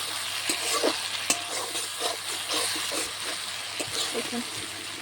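Spice masala frying in oil as it is stirred for a pointed gourd and red lentil dish, a continuous sizzle broken by repeated scraping and clicking strokes of a spoon against the pan.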